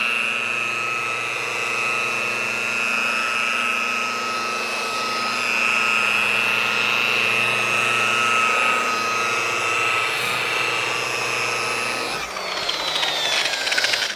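A polisher cuts oxidized boat gelcoat with Quik Sand compound at high speed, giving a steady loud whine and drone with a constant tone that runs throughout, then shifts and stops near the end.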